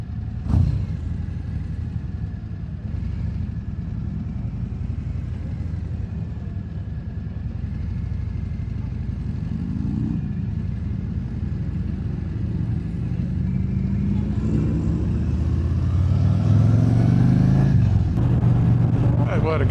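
A car engine revs and pulls while cruising down a strip at a classic car and Harley run, with a rising, swelling growl over steady road and wind rumble and someone talking over it.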